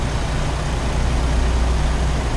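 Steady low engine drone of a truck cruising at about 75 mph in American Truck Simulator, a fairly quiet, even hum with no talking over it.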